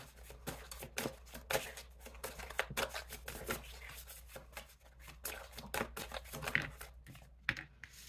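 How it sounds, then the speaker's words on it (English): Tarot cards being shuffled by hand, a rapid irregular run of soft riffling and slapping flicks, close and quiet, continuing without talk for several seconds. "I'm just going to keep shuffling."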